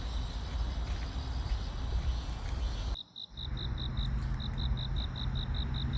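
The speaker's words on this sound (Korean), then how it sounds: "바람 소리와 매미 소리가 정겹습니다." Cicadas singing under old protected trees in Seongsu-dong, Seoul, a dense, continuous high buzzing over a soft wind-like hiss that drops out for a moment, then returns as steady pulsing chirps.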